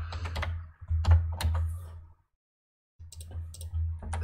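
Bursts of quick keystrokes on a computer keyboard, close and crisp, with a full second of silence before a final short flurry of taps.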